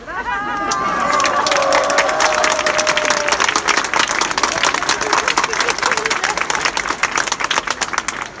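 An outdoor rally crowd in Poznań, defending the independence of the courts, bursts into loud, sustained applause. A few raised voices call out over the clapping at first, then dense, steady clapping fills the rest.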